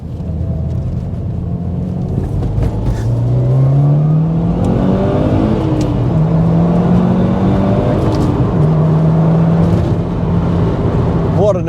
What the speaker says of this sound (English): it emphasizes on that Subaru Boxer engine burble